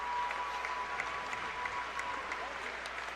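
Fans applauding at the 2017 NJCAA Division I men's basketball championship, a steady wash of clapping from a crowd heard at a distance, with an announcer's voice running underneath.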